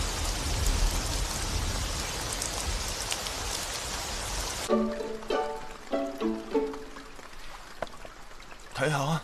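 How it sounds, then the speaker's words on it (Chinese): Rain begins falling in an anime scene as a loud, dense, steady hiss for about five seconds, then cuts away to quieter moments where voices speak. "睇下，开始落雨啦！"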